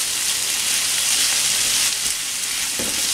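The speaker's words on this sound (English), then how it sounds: "so it's not going to take that Goetta too long to cook through, but I want it to get nice and crispy" Goetta made of pork and oats fries in a hot pan, giving a steady, loud, close hiss of sizzling fat throughout, with a faint knock near the end.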